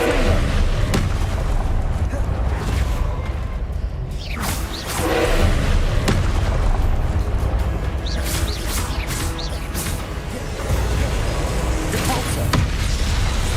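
Confringo blasting spell explosions in Hogwarts Legacy: repeated loud booms and crashing blasts amid whooshing spell effects in a chaotic duel, with someone talking over the noise.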